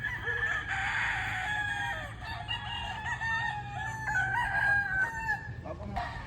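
Several gamefarm roosters crow loudly and repeatedly, with overlapping calls and some clucking, close by over steady background noise.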